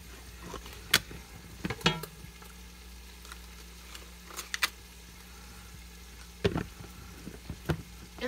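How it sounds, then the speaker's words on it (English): Ground beef browning in a pan, a low steady sizzle under occasional scrapes and clinks of stirring, close and fairly quiet. "I've already got my brown ground beef going in the pan"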